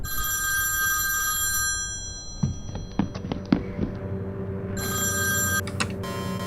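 A telephone rings loudly in the video game Five Nights at Candy's 2 with a bright electronic bell tone, breaking off partway through amid a few thumps and clicks, then starting up again.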